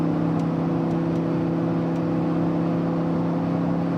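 Audi R8 V10 Spyder driving, heard as a smooth steady engine drone and road hum from inside the cabin, loud and even with no pauses.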